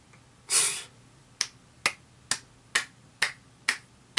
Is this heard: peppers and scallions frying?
no